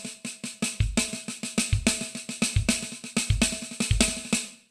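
A drum kit plays a paradiddle-diddle sticking with the last left-hand note moved onto the kick, giving a quick run of crisp snare and cymbal strokes broken by a deep, booming kick about every three-quarters of a second, loud and close.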